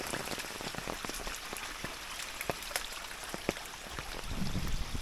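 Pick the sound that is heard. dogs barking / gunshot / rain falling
rain falling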